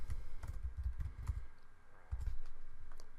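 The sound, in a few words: typing a folder name on a computer keyboard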